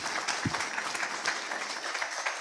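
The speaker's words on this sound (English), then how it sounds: "So a round of applause for our presenters for coming out." An audience at a SMPTE Toronto meeting applauds the presenters, a soft, fairly distant patter of many hands clapping that continues evenly for a couple of seconds.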